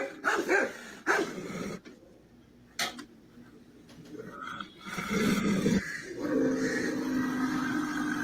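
A Rottweiler barks in loud, separate bursts near the start. Quieter barks follow, then a steady rumble of scuffling and background noise fills the rest of the clip.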